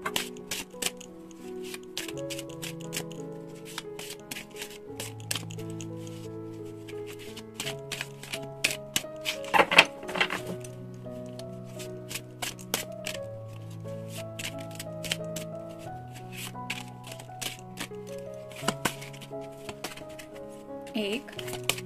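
Tarot and oracle cards being shuffled by hand, a run of crisp, quick clicks and riffles scattered over soft, steady background music.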